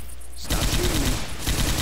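Sustained M60 machine gun fire in a video game on the Hard Rain Expert mode, a loud, close, rapid stream of shots that kicks in abruptly after a quiet moment and keeps rattling.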